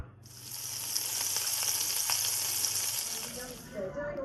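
Minute steak frying in flavor oil with garlic butter in a pan, a loud continuous sizzle with crackling spatters throughout, easing off near the end as a little stirring clatter comes through.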